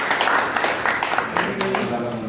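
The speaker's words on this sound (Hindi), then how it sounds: "आपने सबके लिए एक बार तालियां बजाइए जोरदार" Applause from an audience at a hospital talk on helping emergency accident patients, a dense steady wash of clapping with a faint tone near the end.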